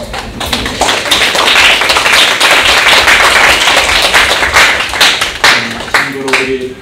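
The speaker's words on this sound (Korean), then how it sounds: "우리 축복의 박수 한번 드립니다." A church congregation claps together in a blessing for two young men visiting their home church, steady dense applause filling the room for several seconds before thinning out, with a voice briefly audible near the end.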